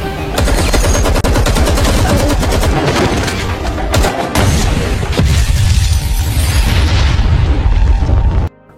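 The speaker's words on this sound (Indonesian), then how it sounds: "sehingga terjadilah baku tembak" Dense automatic gunfire fills a film shootout at a bank, loud rapid bursts with heavy booms running almost nonstop before cutting off abruptly near the end.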